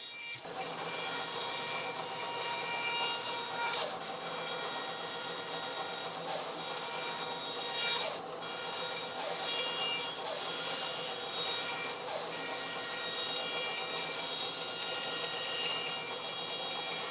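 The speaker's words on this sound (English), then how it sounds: "Now at the bandsaw, I'm going to cut close to the line" A bandsaw cuts steadily through thick plywood for a weather station build, a sustained whining, rasping drone that runs for many seconds with brief dips as the feed shifts, and no speech.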